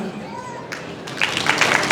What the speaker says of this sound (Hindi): ताली है, जोर से